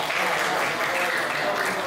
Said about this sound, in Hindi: और ये जो तालियां आप बजा रहे हैं